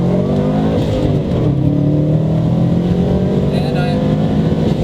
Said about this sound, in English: Do a first gear pull here.